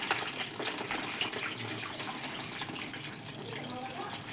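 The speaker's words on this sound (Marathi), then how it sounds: "याच्यात चांगलं पाणी टाकून धुवून घेते." Soaked wheat being rinsed in water in a home kitchen, four kilos of grain for kurdai: a continuous close sloshing and pouring wash, steady and fairly loud throughout, with no clear speech over it.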